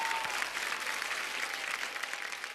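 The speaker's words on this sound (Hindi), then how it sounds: "सबसे पहले जोरदार तालियां जयंत जी के लिए।" A studio audience on a Hindi dance reality show gives a steady, dense round of applause, heard somewhat distantly and at even strength throughout.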